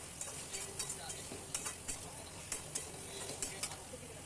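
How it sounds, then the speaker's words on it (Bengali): Spice paste with tomato and green chilli stir-fried for mutton curry with potatoes, a soft sizzle under regular scraping strokes of a spatula against the pan, close and fairly quiet. "মশলাটা ভাজা ভাজা হচ্ছে,"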